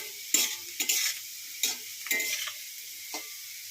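Peanuts and curry leaves fry in a wok with a quiet background sizzle. About six sharp scraping stirs of a spatula punctuate it at uneven intervals, close and alone with no talk.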